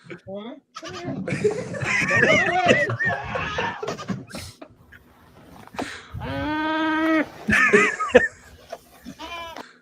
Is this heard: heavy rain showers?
no